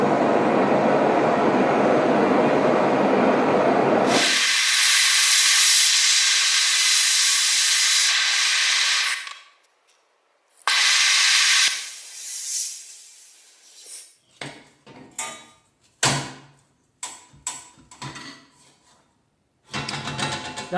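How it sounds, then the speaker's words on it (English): Portable blowtorch heating a stainless steel sheet before welding, a loud roaring hiss that cuts out abruptly, comes back, then breaks into short sputtering bursts and pops. "I'm going to use the portable blowtorch here to be able to heat the sheet and do the welding."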